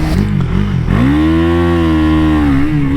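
2021 KTM 390 Duke motorcycle engine revved hard, a loud, close, rising single-cylinder whine that climbs sharply and holds at high revs.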